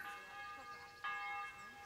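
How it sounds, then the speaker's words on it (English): Church bells ringing for supper in Kingdom Come: Deliverance, a faint sustained metallic ring with a fresh strike about midway, sounding distant and soft. "The bells are ringing out for supper time."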